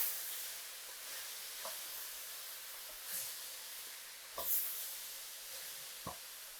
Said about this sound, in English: It's a quick stir.